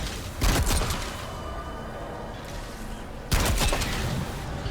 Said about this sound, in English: if I do my special reload, I get 3 golden gunshots